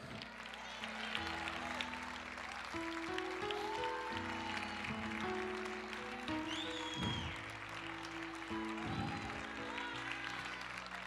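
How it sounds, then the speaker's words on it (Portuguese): A church congregation claps along during a worship service, the applause blending with sustained musical tones and voices, moderately loud and continuous. "Aplauda o Senhor, declare: eu creio."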